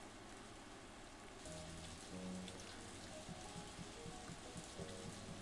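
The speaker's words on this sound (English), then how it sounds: "Everybody's outside in the rain." Rain falls steadily in the farming video game Story of Seasons, a constant even patter with faint game tones sounding over it and no voices.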